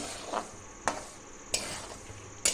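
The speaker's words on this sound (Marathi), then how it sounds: "फुल स्पीड म्हणजे मोठा गॅस करायचा आणि त्याच्यानंतर ह्या मिठात घालून अशा पद्धतीनं भाजून घ्यायचं" Pani puri roasts in a pan of salt over a high flame, with a faint steady hiss broken by four sharp, evenly spaced scraping clicks as the salt is stirred.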